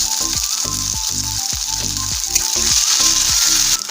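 Onion, ginger, garlic and chili fry in hot oil for an Assamese potato and bitter gourd dish, giving a loud, steady sizzle broken by regular scraping strokes of stirring, with no voices.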